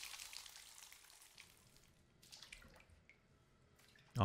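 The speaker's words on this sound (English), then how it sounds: "Water sound peaceful." Quiet dripping and trickling water ambience in the horror video game The Stalked, soft and steady for about four seconds before a sudden loud burst at the very end.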